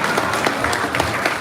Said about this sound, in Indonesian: Ada tepuk tangan sekali untuk Kang Ahy dan juga Kang Anies.